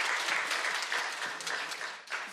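Church congregation applauding the 50s and 60s age group, a dense burst of clapping from many hands filling the room, steady and close for a couple of seconds before trailing off.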